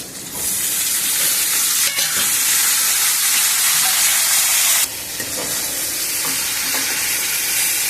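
Tomatoes and garlic fry in a pan for a Telugu gongura and palakura pickle, a loud steady sizzle with stirring scrapes, the hiss dropping briefly near the end before continuing.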